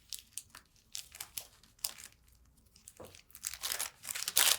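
Stabilizer paper is torn and peeled away from machine embroidery on fabric in soft, close bursts of crinkling and ripping that grow louder toward the end.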